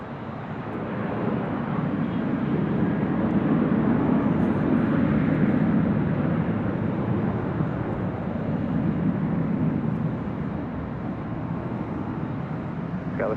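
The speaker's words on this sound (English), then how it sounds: "that is Southwest Airlines Flight 232 heading to Oakland, California. It's a 737-700" A Southwest Airlines Boeing 737-700, Flight 232 bound for Oakland, takes off at LAX with a steady, broad jet roar that swells slightly mid-way and holds for the whole stretch, heard from a distance without talk.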